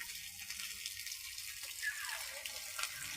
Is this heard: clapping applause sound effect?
no